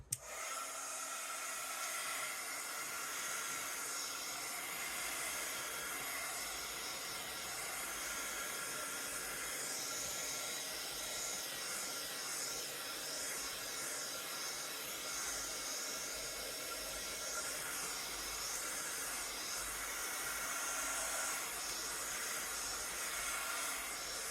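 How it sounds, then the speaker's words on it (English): A handheld heat tool blows a constant, even hiss as it dries ink on a painted craft piece, running unbroken and close throughout. "use my heat tool just to dry this off"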